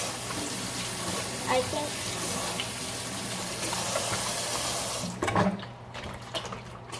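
Tap water runs steadily into a sink where gold slime is being mixed, a continuous gush that cuts off abruptly near the end, with a person speaking briefly over it.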